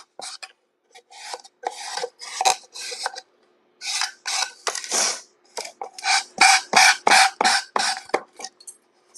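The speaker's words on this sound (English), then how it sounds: "I'm just making sure that I sand it back down." Repeated hand sanding strokes on a wooden trinket box, a steady rasping scrape in short rhythmic bursts of varying length, close and fairly loud with no talking.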